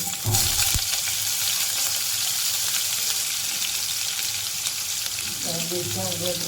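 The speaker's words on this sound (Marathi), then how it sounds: "तेल गरम झालं की राई, थोडंसं हिंग, मिरच्या हिरव्या," Mustard seeds, asafoetida and green chillies fry in hot oil for a cabbage and pea vegetable dish, giving a loud, steady sizzle with a few sharp crackles, close up and without speech.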